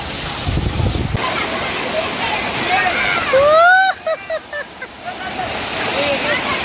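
A waterfall roars as a steady broadband wash throughout, close and loud, with a person's voice cutting in over it partway through.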